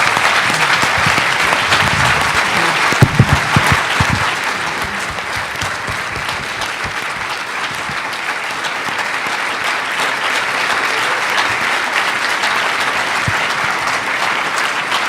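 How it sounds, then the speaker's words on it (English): A large conference audience applauds steadily and loudly for the full length, with dense sustained clapping throughout and no voices over it. "let's give a round of applause for Hussam,"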